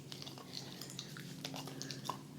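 A puppy gnaws on a turkey sausage chew treat close by, giving soft, wet chewing and small biting clicks that keep going through the moment with no talking.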